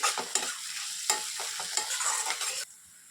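Onions with crushed garlic and ginger sizzling in a hot pan while being stirred briskly, close scraping strokes over steady frying that cut off abruptly near the end.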